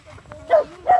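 A dog gives two short, fairly close barks about half a second apart, loud against a quiet background with faint low rumble.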